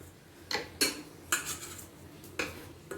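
Fish pieces set one by one into an air fryer basket, oil-free with only a light brushing of oil: a handful of sharp clinks and knocks at irregular intervals over a quiet background, with no talk.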